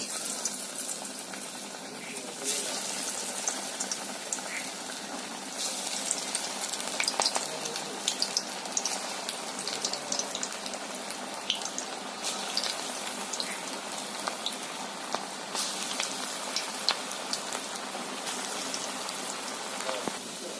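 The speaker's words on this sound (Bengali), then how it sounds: "বড়াগুলো ভাজা হোক" Coconut fritters sizzle in hot oil with melted ghee, giving a continuous crackling, spattering fry at moderate level throughout, with occasional louder pops.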